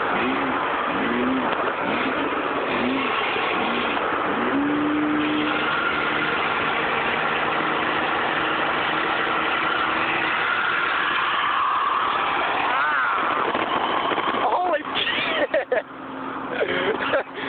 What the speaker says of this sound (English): Pukey and Kyle are in the Chevy that just drove past me, and I'm driving a little Ford Ranger